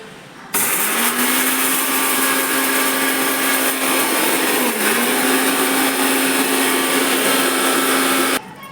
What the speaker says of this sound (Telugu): ఇది మిక్సీ చేసుకోవాలి.